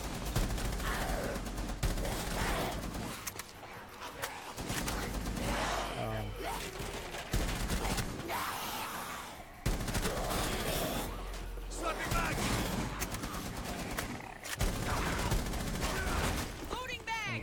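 Gunfire in Tom Clancy's Rainbow Six Siege Outbreak: dense bursts and volleys of shots with crashing impacts continue almost throughout, loud and near, while a person talks over them.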